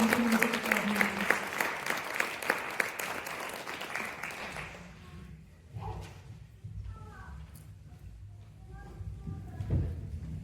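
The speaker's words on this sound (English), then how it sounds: "Another big round of applause for the students of Country Music Academy." Audience at a cultural event in Frankfurt claps for music academy students, a lively round of applause lasting about five seconds before dying away into quieter room sounds and a voice.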